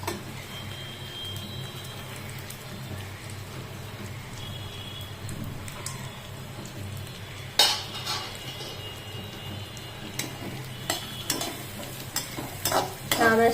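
Pistachios and other dry fruits stirred and roasted in ghee, with a steady low sizzle, occasional scraping of a spoon against the pan and a few sharper clinks near the end, close up without speech.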